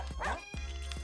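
Poodles bark in the video game Russian Subway Dogs, a few quick yapping barks in close succession over a low electronic music bed.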